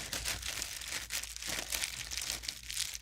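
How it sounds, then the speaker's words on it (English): Paper crumpled and crinkled by hand while packing a portable PC build, a steady rustling crackle close by for the whole stretch, with no talking. "You hear the crumpling paper?"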